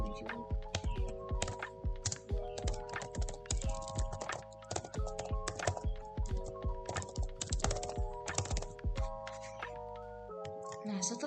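Rapid, uneven clatter of keys on a computer keyboard while entering an address into a Word document, crisp close clicks with short pauses, a voice talking over the typing.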